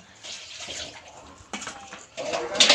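Tap water splashing while horse meat for ginataang kabayo is rinsed, coming in uneven bursts with brief gaps, close by and moderately loud, with a faint voice now and then.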